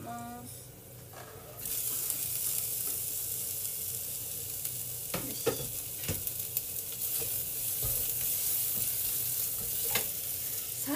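Green onion and garlic frying in sesame oil: a steady close sizzle that starts after a quiet moment and keeps going, with occasional stirring scrapes and taps from the pan.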